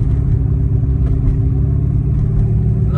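A Corvette engine sits at a high idle, a steady, loud, close drone with an unchanging low hum and no drop in revs.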